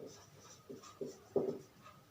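Chalk or marker writing on a board during an English grammar lesson, a few faint scratchy strokes with short pauses between them, quiet and close, with no speech over it.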